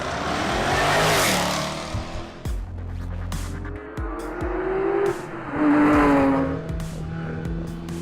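Rally cars on a Tour de Corse stage roar past in two loud surges, with engine revs rising and falling and tyres squealing between passes.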